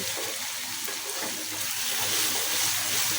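A steady, soft sizzle of paste frying in hot oil, continuous and close, with no voices.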